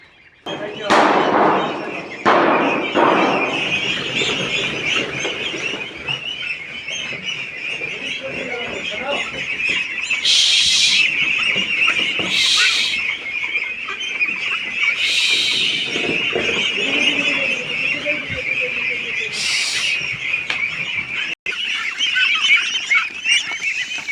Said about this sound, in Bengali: আজকে পুকুরের মধ্যে আমরা হাঁসগুলোকে ছাড়বো